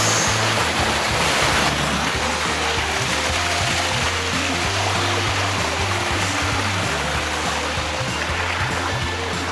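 A waterfall on a mountain hiking route among rocks at Jigokudani on Mount Rokko gives a loud, continuous rushing roar of falling water, close and steady, with no talking.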